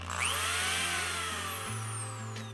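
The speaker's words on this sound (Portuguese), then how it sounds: "Essa aqui é uma furadeira que tem controle de rotação." An electric drill with speed control spins up, its high whine sliding in pitch as the speed changes over a steady low motor hum, close and continuous.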